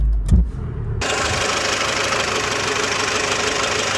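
A Renault D4F 1.2-litre single-overhead-cam inline four cranks briefly and catches, then settles into a loud, steady idle heard up close with no talking.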